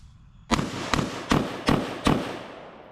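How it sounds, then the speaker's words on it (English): Five sharp, loud gunshots from a BCM 11.5-inch AR-15 pistol at a shooting range, fired at an even pace about half a second apart, each with a short echoing tail. "shooting this AR-15 is probably my new favorite thing to do"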